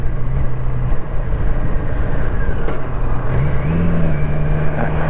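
A BMW K1200LT touring motorcycle runs under way, its engine a continuous loud hum with a rising pitch shift near the end as the gear changes, heavy wind and road rumble mixed in.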